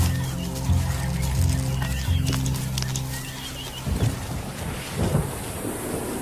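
Thunder rumbles from an approaching thunderstorm at the end of the dry season, low, irregular rolls that grow heavier in the second half against a noisy outdoor background.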